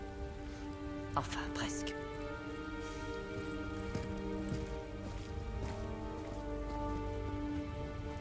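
Steady rain falling in the video game Marvel's Midnight Suns, a constant hiss beneath sustained musical tones, with a few sharper clicks and a brief spoken line.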